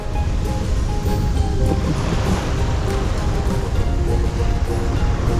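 Sea waves wash against a rocky shore on the Spanish coast, a loud, constant roar of surf and rushing water close by, with no pauses and no voices.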